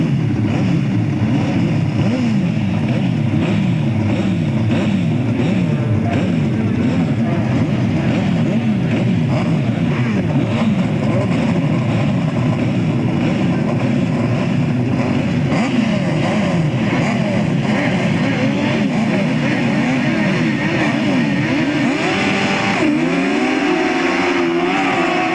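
Grasstrack sidecar outfits race together at a 1997 meeting in Wimborne, their engines snarling and revving in a loud, continuous, overlapping roar that rises and falls as the machines pass.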